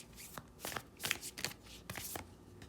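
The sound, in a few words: shuffling Moonology oracle cards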